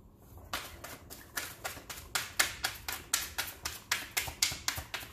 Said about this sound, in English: If you guys don't like the shuffling,